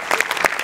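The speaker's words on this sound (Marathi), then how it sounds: "याच्यात तुझ्या लेखकासाठी जोरदार टाळ्या एकदा." Studio audience on a Marathi comedy show bursts into a short round of clapping, a quick dense patter of hand claps, close and lively, lasting under a second.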